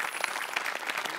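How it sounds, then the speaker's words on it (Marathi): An audience at a Marathi comedy sketch show gives a short, dense burst of hand clapping, loud and close, with no voices. "गोस्वामींसाठी प्रचंड टाळ्या"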